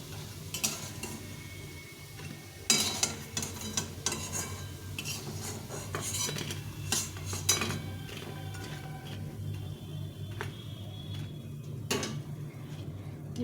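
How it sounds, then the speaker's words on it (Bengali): Fried lentil fritters being lifted from a pan of hot oil, with a soft steady sizzle under repeated sharp metallic clinks and scrapes of a utensil against the pan, irregularly spaced and fairly close. "সবগুলো বড়া ভাজা হয়ে গেছে, এখন উঠিয়ে নিই।"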